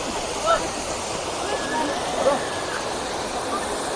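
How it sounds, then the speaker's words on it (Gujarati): Water falls from above at the Galdhara Khodiyar temple site near Dhari, a steady rushing roar that stays even throughout, with faint voices and a couple of brief louder bumps. "જો સરસ મજાનું પાણી પડી રહ્યું છે ઉપરથી"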